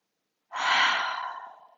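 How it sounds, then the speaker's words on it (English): One long, audible exhale out of the mouth during a seated yoga forward bow, a close breathy sigh that starts abruptly and slowly fades. "let out 3 big exhales right there"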